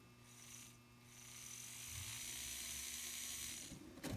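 A Kato N scale locomotive, an F3 or F7 model, runs on a test bench with a steady, close whirring motor hum and fine mechanical buzz that holds for about four seconds, with no voices.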